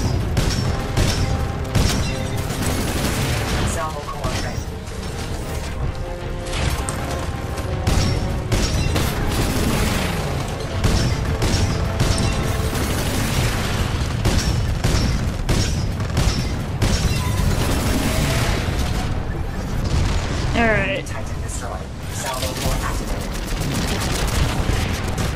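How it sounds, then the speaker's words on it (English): Repeated heavy explosions from mortar fire in the video game Titanfall 2, booming continuously amid a dense battlefield mix of gunfire and other combat noise, loud and sustained throughout. "Mortars in the back."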